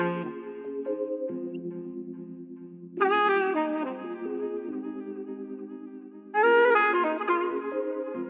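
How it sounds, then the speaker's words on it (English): A smooth saxophone-like melody with harmonised notes, sustained phrases rising and falling, clean and alone with no background noise. "So I picked a saxophone sample."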